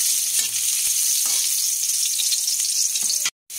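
Garlic frying and being stirred in hot oil after browned ginger, a loud continuous sizzle with a few soft stirring knocks, cutting off abruptly near the end, for a coconut-milk tambakol fish dish with pechay.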